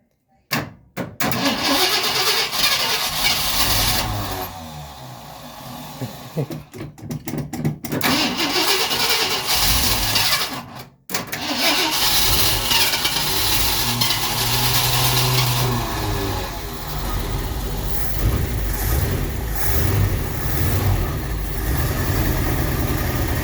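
A 1959 Ford Fairlane 500 engine cranks and catches after years off the road, then runs loud and rough with revs rising and falling, and stalls briefly before restarting.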